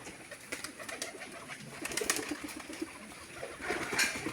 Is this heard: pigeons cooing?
yes